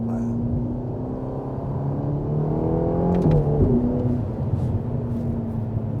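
A sports car engine pulls hard from inside the cabin, a loud steady drone climbing in pitch before a gear change briefly drops the note, then it builds again.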